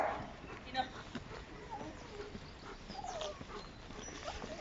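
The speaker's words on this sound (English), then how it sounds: "now I'm going to walk past with my screaming, whining dog" A reactive poodle whines and gives high yips and short barks, agitated and close, over outdoor background noise, while people talk nearby.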